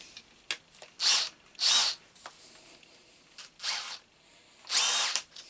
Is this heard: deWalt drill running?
yes